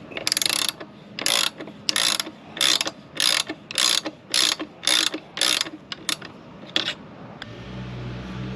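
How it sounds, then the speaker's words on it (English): An Allen wrench ratchets on a motorcycle's chain adjusters in a series of about a dozen crisp clicking bursts, evenly spaced and close by, stopping before a low mechanical hum takes over at the end. "Turn the adjusters with the Allen wrench in small increments, an equal amount on both left and right side."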